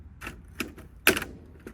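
A small motor being ripped out of an LTO tape drive: a few sharp plastic-and-metal clicks and snaps, with one louder crack near the middle, close and otherwise quiet.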